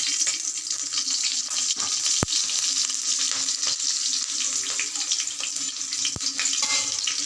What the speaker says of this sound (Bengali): ওই তেলের মধ্যেই এখানে শুধুমাত্র কাঁচা লঙ্কা ফাটিয়ে দেওয়া হবে